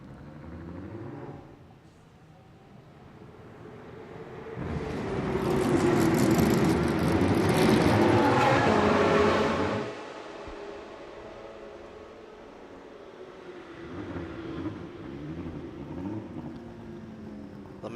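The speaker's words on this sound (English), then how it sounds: "The McLaren there, you see in 5th there, Reed and Asfahem coming out of Vatana." A McLaren GT race car in GT Asia qualifying passes, its engine swelling from a distant hum to a loud roaring pass, then fading away as lighter engine noise continues.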